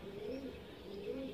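Pigeons coo in a loft in a low, steady murmur of overlapping calls, with a faint chirp now and then and no voices.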